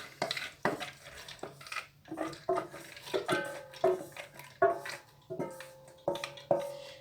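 Chana dal goes into a pot for shami kabab, with a run of close, rhythmic clinks and rattles of metal utensils against the pot, about two a second. No voices are present.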